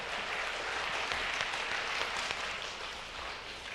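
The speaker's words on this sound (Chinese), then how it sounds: "拍手！" A church congregation at a Sunday service applauds, a dense sustained burst of many hands clapping that holds steady and then eases slightly toward the end.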